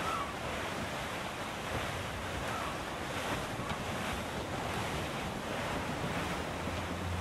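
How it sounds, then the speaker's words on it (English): Strong wind roars and ocean waves wash steadily around a schooner at sea in Assassin's Creed IV Black Flag, a dense continuous rush with no voices. "There's a strong wind now."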